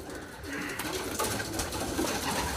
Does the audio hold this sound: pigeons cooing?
yes